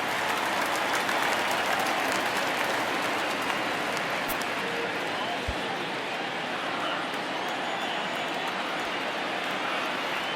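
A baseball stadium crowd at a Nationals–Dodgers game roars steadily as the count runs full at 3-2, a broad sustained cheer holding at a fairly even level throughout with no clear talk above it.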